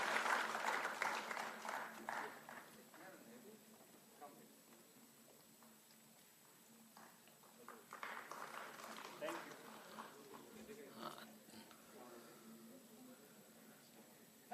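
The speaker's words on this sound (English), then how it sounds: "Let's clap for her." Audience applause at a hospitality services seminar, a moderate ripple of clapping that swells at the start and again midway, under a voice talking over a PA.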